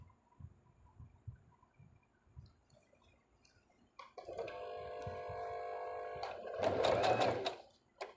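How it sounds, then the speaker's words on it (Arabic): A home sewing machine stitches fabric in two steady runs, a steady whir and then a louder, faster burst near the end, after a quiet stretch of light handling noise. "هنخيط وبعدين نرجع بالزرار وبعدين نكمل خياطة."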